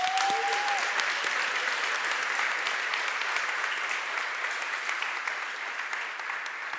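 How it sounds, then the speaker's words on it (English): Sustained applause from a conference audience thanking the organizers, a broad continuous clatter of many hands filling the hall, tapering slightly near the end, with a brief tonal chirp at the start. "let's start by giving a round of applause to the organizers"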